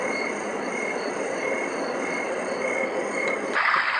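A dense, steady chorus of frogs and crickets, with continuous chirping and trilling at an even level and no voices.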